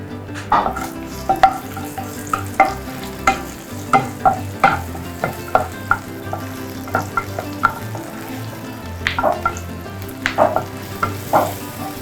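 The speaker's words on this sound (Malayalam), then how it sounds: "ഇതിലേക്ക് വറ്റൽ മുളക്, കറിവേപ്പില ചേർത്ത് കൊടുത്തു." Dried red chillies and curry leaves sizzle loudly in hot oil for a jackfruit-seed and drumstick avial, with repeated metallic scrapes and clinks from stirring over the steady frying hiss.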